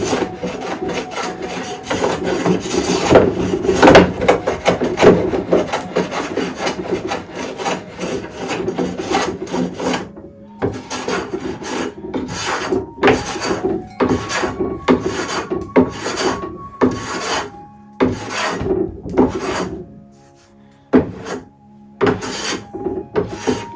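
A hand plane shaves a solid walnut Roubo workbench top in repeated rasping strokes, dense and near at first, then in shorter separated passes with brief pauses between them.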